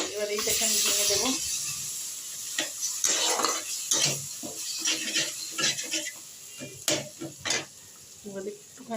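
Fried food being broken up with a utensil in a pan while cooking a rui fish and potol dish: intermittent scraping and clinking against the pan, mixed with a person speaking throughout.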